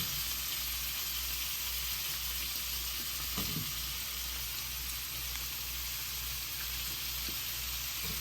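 Chillies and curry leaves frying in hot oil in a pan for a shrimp and pepper curry, giving a steady, close sizzle that holds throughout with a brief stir or clink partway through.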